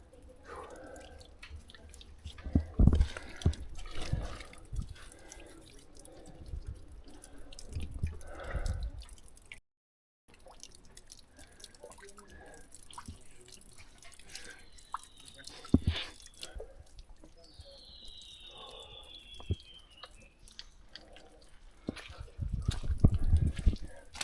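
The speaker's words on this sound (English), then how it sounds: "Water dripping." Water dripping in Caprock Canyons State Park, with sparse, irregular drops landing close by, quiet amid soft outdoor rustling and a few brief swishes.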